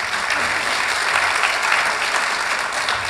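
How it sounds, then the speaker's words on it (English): A church congregation at a fall revival meeting gives a thick, even round of clapping, loud and continuous throughout with no voices over it. "give them another hand clap"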